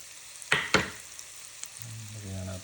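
Ginger frying in a pan: two sharp clatters of stirring, then a quiet stretch with a low sizzle and a light clink, and a steadier hum building near the end, heard up close.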